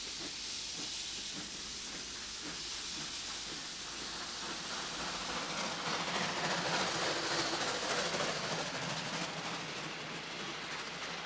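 A steam train on the Severn Valley preserved railway gives a steady, continuous hiss of escaping steam with a faint rhythmic chuffing underneath, fairly quiet and unbroken by voices.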